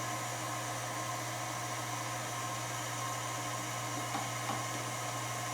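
An electric pasta machine cutting fresh ramen noodle dough runs as a steady, continuous motor whir with a low hum, close and unbroken, with a few faint clicks near the end.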